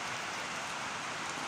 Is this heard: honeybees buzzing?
no